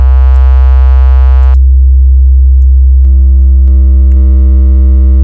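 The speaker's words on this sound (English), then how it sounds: "when I start to distort this, now we get crossover distortion" Steady synthesized sine tone with crossover distortion added, a loud continuous buzzy hum whose harmonic brightness changes abruptly partway through and again near the end, with no other sounds.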